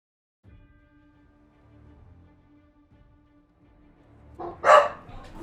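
A dog gives a single loud excited bark near the end, following a stretch of quiet indoor background sound.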